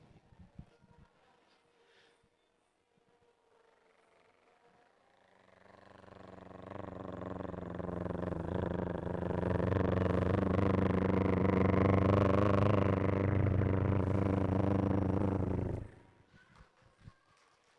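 A man vocally imitates a spinning helicopter propeller during a live comedy skit, building from quiet into a loud, sustained buzzing drone with a rapid flutter for about ten seconds before cutting off abruptly.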